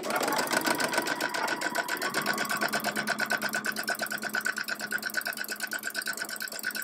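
A sewing machine sews a seam on a quilt house block, a close, loud, steady rhythmic whir with fast regular needle pulses throughout, alone without talk.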